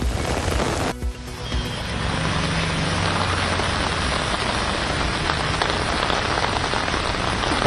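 Steady rain pours down in Krishnagiri, a dense, even hiss of drops striking surfaces that continues without letting up, with a brief thump near the start and no voices.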